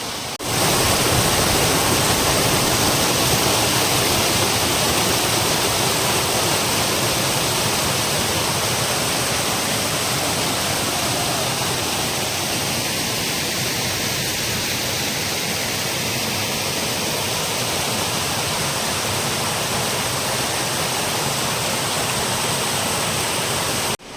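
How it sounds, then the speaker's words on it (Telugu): The Denkrai waterfall in Alluri district, set among tribal villages, roars as a loud, constant broadband rush of falling water with no pauses, heard alone without voices. "సంగ్లో మధ్యలో ఈ డేంక్రాయ్ అనే వాటర్ ఫాల్ ఉంటుంది మనకి"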